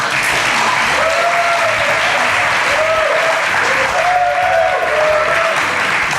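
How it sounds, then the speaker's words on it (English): A studio audience on a cooking show gives a guest a round of applause, loud sustained clapping with a few voices calling out over it. "Round of applause for Patricia"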